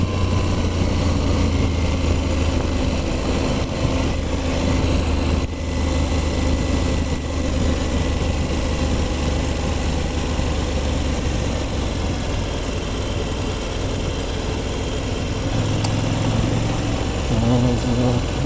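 A KTM 790 Adventure motorcycle engine drones steadily and loudly throughout, a constant low rumble with rising revs near the end.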